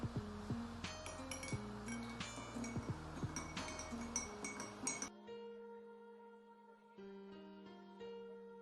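A spoon clinks and scrapes against the inside of a glass in quick repeated taps while stirring sugar, then the stirring falls quiet and soft faint clinks continue under background music.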